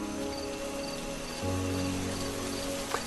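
Heavy evening rain pours steadily outside a rural house during a stormy flood night, a dense, continuous hiss with a faint low hum beneath and a brief sharper drop near the end.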